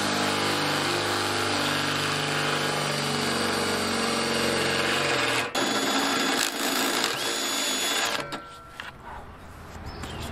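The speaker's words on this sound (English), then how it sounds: "I'm going to try to drill them out with this." A power drill bores holes through a steel bracket on a bus for an RV trailer hitch. The loud, steady high-pitched whine holds for several seconds, then bogs and sputters as it breaks through and winds down.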